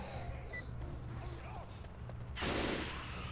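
Gunfire in Left 4 Dead 2, a steady low rattle of shots beneath game noise, then a louder burst of broadband blasting near the end.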